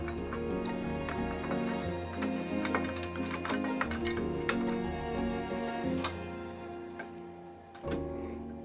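Small metal washer and nylock nut clinking together as they are fitted to a bracket under a Suzuki Address 125 scooter rack, with scattered light taps and chinks over a steady background hum, no talk.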